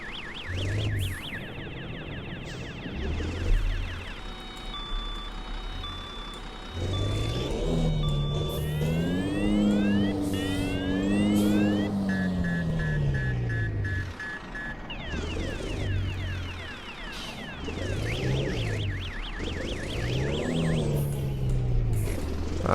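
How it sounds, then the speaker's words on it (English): Reversing beeper on a South American truck in Euro Truck Simulator 2, a loud repeating electronic chirping warble like an arcade machine, layered over a diesel engine that drops and climbs in pitch as the truck moves. "listen to the backing up beeper sound, because this is a South American truck"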